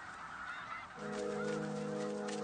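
Loud, nasal honking of geese in the Russian Arctic, several calls overlapping and rising into a sustained chorus.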